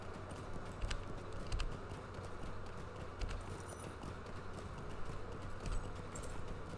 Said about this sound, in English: It's not like he's going to have an easy time catching a horse. Especially not an elven horse with an elven rider.